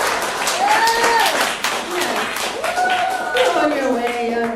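An audience applauds after a vocal performance at a music industry vocal coaching session, with dense clapping throughout while someone speaks over it in a sustained, melodic voice.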